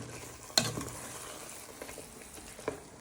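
Pork steaks in homemade tomato sauce sizzle softly in a pan, a steady low frying hiss broken by a few sharp clanks of a utensil stirring.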